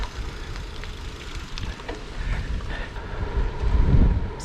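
Steady wind buffeting the microphone while cycling along the River Trent near Nottingham on a cold early morning, a low rumbling roar that swells louder toward the end, with no voices.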